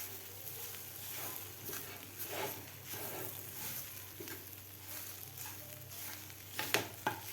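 Mashed potatoes being stirred into sizzling masala in a pan for onion kachori, with steady frying hiss and repeated scraping and stirring strokes close by, and no talking.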